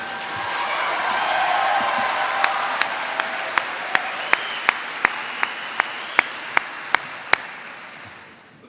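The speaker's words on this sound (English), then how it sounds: "You can applaud for the President" At an Illinois State University naming ceremony, the crowd applauds President Larry Dietz: dense clapping swells, then thins into a steady run of single, evenly spaced claps before fading out.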